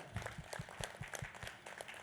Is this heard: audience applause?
yes